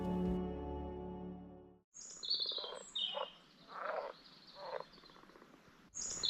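Frogs croak close by on Corsica in several loud, irregular bursts with short pauses between them, after a droning tonal hum at the start; no one speaks.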